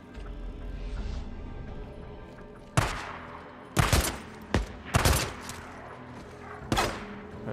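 Gunfire in the video game Days Gone, with penetrating-shot upgrades: several loud, separate bursts of shots with sharp attacks and short decays, spaced irregularly over a low rumbling game background.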